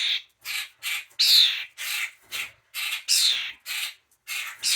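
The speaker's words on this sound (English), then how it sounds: "The baby Grackle shorts video. That's this one right here. And I give you a little starling." A baby grackle and a young starling squawk close by in rapid, repeated harsh bursts, about a dozen calls with short gaps between them.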